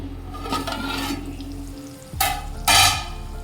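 Drumstick curry in a pan, cooked with gram flour, is stirred and mixed, giving a low steady sizzle and two sharp scraping bursts near the end, with no voices.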